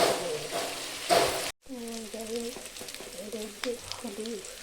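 Tomato paste with ginger and garlic frying for doi katla, a steady close sizzle for the first second and a half, then a brief break before softer frying continues under a talking voice.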